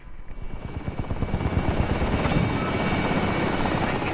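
Helicopter in Call of Duty Warzone, its rotor thumping as a steady rapid chop with a constant engine drone that swells slightly and holds loud and close throughout, no voices over it.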